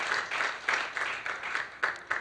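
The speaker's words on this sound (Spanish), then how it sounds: "dale un aplauso a Cristo Jesús." A church congregation applauds during a Spanish-language sermon, with sharp clapping surges rising and falling in rhythmic bursts, fairly faint and at a moderate distance.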